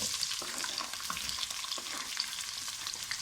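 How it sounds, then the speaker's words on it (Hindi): Onions dropped into ginger, garlic and cumin frying in oil for a mixed vegetable curry, giving a steady soft sizzle with faint stirring scrapes, no voices. "अदरक लहसुन और ज़ीरा को थोड़ा सा भुनने के बाद अब इसमें प्याज शामिल कर दें"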